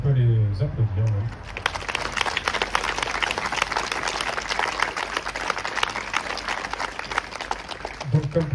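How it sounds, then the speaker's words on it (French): Audience applause at the dedication ceremony of a new American memorial breaks out after a spoken introduction, a crowd of scattered clapping that continues steadily at moderate loudness with some voices and movement mixed in. "donc on peut les applaudir"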